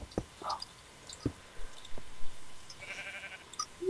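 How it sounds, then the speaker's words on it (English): Sheep in the Minecraft Tekkit mod bleat a couple of times, short and fairly quiet, with scattered soft game noises around them. "I found some sheep."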